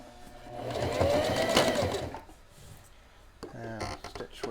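Sewing machine stitching a Christmas pillow case, running steadily and fairly loud for about two seconds, then slowing and falling quieter before a few brief mechanical clicks near the end.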